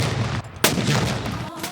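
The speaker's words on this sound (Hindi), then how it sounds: "तलुए आफ्ताब के साथ ही फिजा तोपों की गन गरज से गूंज" Cannon fire during an Independence Day gun salute booms once sharply over dense, rumbling outdoor noise, with fainter thuds around it.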